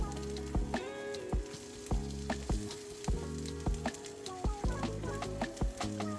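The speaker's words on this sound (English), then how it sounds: "I'm going to cook these down for about 5 minutes just until they start to soften." Peppers and onions for vegan bratwurst sizzle steadily in a pan, a constant frying hiss broken by regular knocks and scrapes of stirring, close and fairly loud with no talking.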